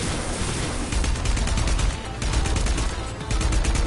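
Rapid gunfire and explosions from a shooter video game, where shooting items sets off area-of-effect blasts; a dense, continuous barrage of loud bangs with no talking.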